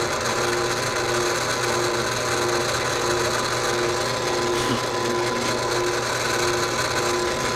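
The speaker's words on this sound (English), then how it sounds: "I'm just going to drill it down." Close, loud power drill whirring steadily as it bores into wood, a constant droning hum with a gritty edge and no talking.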